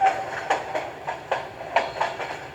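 Crowded 8:15 local commuter train running along the tracks, with rhythmic clickety-clack wheel beats repeating steadily over a low rumble, heard from inside the carriage without talk.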